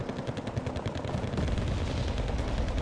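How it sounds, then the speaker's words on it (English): Mortar rounds and gunfire in a World War II strategy game battle, a dense barrage of repeated thuds and cracks with low booming impacts growing heavier toward the end, no voices. "There's definitely mortars falling around them."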